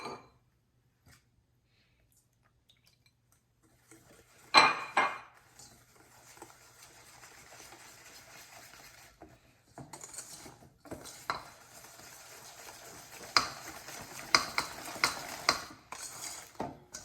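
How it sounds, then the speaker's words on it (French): Egg and milk mixture being mixed into dry pancake ingredients in a bowl, with a quiet start, a sharp clink of utensil against the bowl, then continuous scraping and stirring with intermittent louder knocks, no talking. "il va falloir mélanger le mélange d'œufs et de lait avec les matières sèches"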